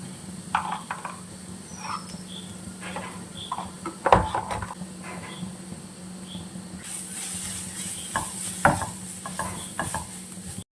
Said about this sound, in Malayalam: ഇനിയിപ്പോൾ ഇതെല്ലാം കൂടി നന്നായിട്ട് നമുക്ക് വഴറ്റിയെടുക്കാം